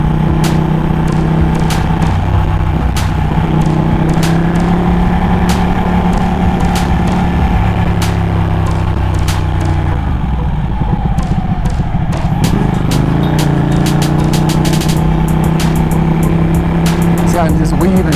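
Ducati 1199 motorcycle engine droning steadily as it splits lanes through traffic, a close, constant harmonic hum that dips briefly in pitch midway before building again, with a voice talking over it.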